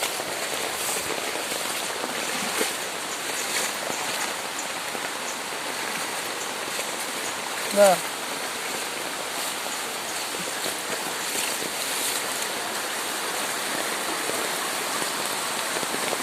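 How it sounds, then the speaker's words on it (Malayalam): Steady rain patters on surfaces, blending with the broad rush of flowing floodwater; a brief louder splash or knock stands out midway. "ഇന്നത്തെ മഴയിൽ വെള്ളം വന്നിട്ടാ"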